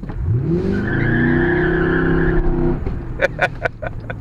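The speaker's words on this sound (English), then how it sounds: "Maybe I'll just send the tires up here a little bit when I take off." A Lincoln car with a 4.6-liter V8 revs up and spins its tires on takeoff, the engine rising into a loud, sustained roar, followed by sharp, scattered tire chirps and squeals as it launches.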